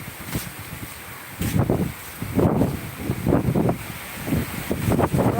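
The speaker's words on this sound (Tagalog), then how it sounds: "grabe ang hangin dito" Strong gusts buffet the microphone in bursts outdoors, loud rumbling surges with short lulls between them, no one talking.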